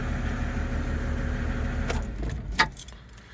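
Keys jangle in the ignition of an OM606 diesel-swapped Volvo 240 as the engine hums steadily. The running stops partway through, followed by a few sharp metallic key clinks and rattles close by.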